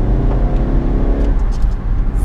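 Diesel VW Golf GTD MK8 hatchback accelerating hard in fourth gear, a steady low engine drone with a rising note that holds loud and close for a couple of seconds.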